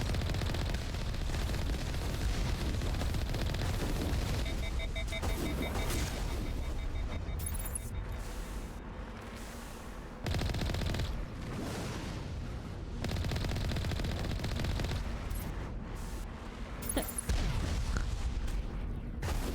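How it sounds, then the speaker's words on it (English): Sustained bursts of laser gunfire and booming impacts in the Mass Effect video game fill the scene, dense and loud with brief pauses between volleys, high electronic tones pulsing above a heavy rumbling bed. "Oh, lots of lasers coming at you."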